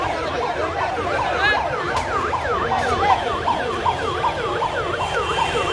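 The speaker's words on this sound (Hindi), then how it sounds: "और यहाँ पर एम्बुलेंस आते हुए" An ambulance siren wails in a fast, repeating up-and-down pattern, loud and close, over rumbling traffic at a street protest in Patna.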